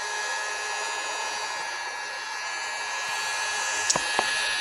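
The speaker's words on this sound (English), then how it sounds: "I'm just going to heat that up with the heat gun on its lowest setting" A heat gun on its lowest setting warming a car's front emblem gives a steady, even airy blowing hiss that holds constant throughout, with a couple of faint clicks near the end.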